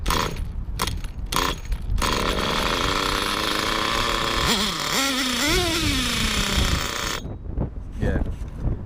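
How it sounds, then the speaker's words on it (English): Engine of a Hyper 7 on a test run after new parts were fitted, with a steady broadband roar that dips and wavers as the revs are brought down, then cuts out near the end, with talk mixed in. "I'm actually slowing the engine down"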